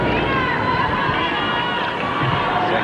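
A tennis crowd at a 1995 exhibition match between Monica Seles and Martina Navratilova keeps up a steady, dense wash of cheering and encouragement for Navratilova, broad and sustained throughout without a break.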